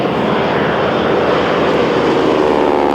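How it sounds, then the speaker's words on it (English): A loud vintage military propeller aircraft drones steadily overhead at an air show in Scone, its deep engine roar holding constant with a slight rising pitch, no voices. "the mere sound of these mighty planes sent you back in time"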